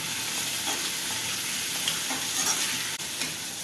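Onions and tomatoes sautéing together in a pan make a continuous, even sizzle close by, with faint stirring scrapes and one sharp tap near the end.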